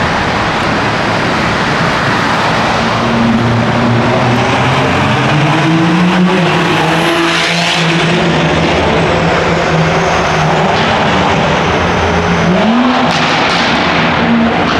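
A Toyota MK5 Supra fitted with a downpipe roars past in a tunnel, its loud exhaust note rising and sweeping in pitch as it echoes, holding on continuously with heavy reverberation and no talk.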